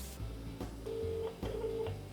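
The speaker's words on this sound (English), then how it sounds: "I'm going to phone my mum." Keypad tones from a telephone as someone dials a call, a few short beeps spaced irregularly over quiet room background, near and clear.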